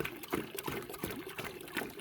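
Cucumber brew steeped for two hours being poured into about 1 1/3 gallons of warm water, giving a brief, steady, faint trickling gush.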